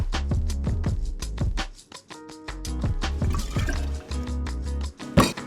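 Fresh coconut water pours and drips into a drink at a bar, with a steady liquid splash and rhythmic trickling, close and fairly clear, without voices.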